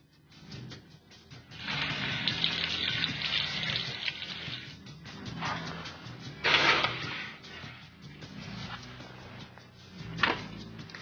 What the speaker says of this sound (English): But first I'm going to wash my hands.